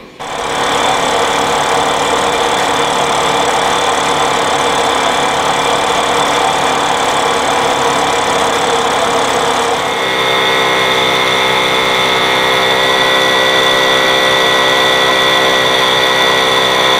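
A restored engine running steadily on a test bench, a loud continuous drone that holds throughout and shifts to a different, more tonal pitch partway through.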